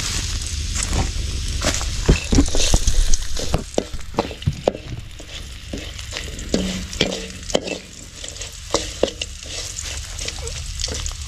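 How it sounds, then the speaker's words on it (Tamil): Dried fish (karuvadu) sizzling and frying in a pan, steady crackling hiss with repeated stirring scrapes and clinks, close and continuous, no talk. "இது கருவாடு வறுக்கிறது"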